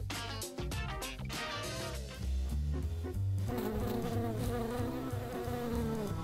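Insect buzzing sounds close and steady under a dense layer of loud music that plays continuously throughout.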